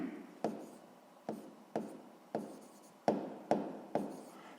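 A pen scratches across paper in short strokes, about seven quick scrapes each starting with a sharp attack and fading, close and fairly quiet with no talk.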